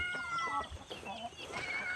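A cat meows among dogs and chickens in the grounds of a rural temple in Lampang, Thailand, giving short, fairly faint cries mixed with clucking and other outdoor noise.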